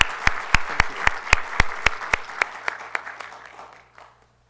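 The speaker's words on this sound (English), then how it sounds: "Round of applause for all of you" Applause from an audience at an evening awards event. It sets in with a fairly loud spell of distinct, rhythmic claps, then thins and fades to silence near the end.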